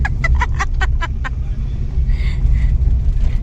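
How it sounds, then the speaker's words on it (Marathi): A car pulling away on the way to an engagement near Nilanga taluka, Latur, with a steady low engine rumble throughout and brief chirping sounds early on. "तर आता इथे आम्ही निघालोय सर्वजण, गाडी निघाली आमची."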